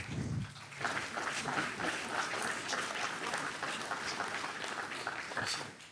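An audience applauds economist Jacques Nikonov, former president of Attac, at a French political debate: dense, steady clapping from a crowd that fills the room and holds for about six seconds before tapering off at the end.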